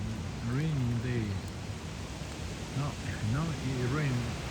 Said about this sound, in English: Now it rains too much.